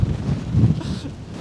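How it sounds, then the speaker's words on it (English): Strong wind on the Namibian coast at a kitesurfing spot gusts across the microphone in a low, rumbling rush that swells and eases over a moment. "Today, the wind is definitely stronger than yesterday."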